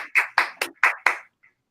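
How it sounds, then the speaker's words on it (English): Hands clapping in a short run of five sharp, evenly spaced claps close by, then silence, no voices. "Clap your hands."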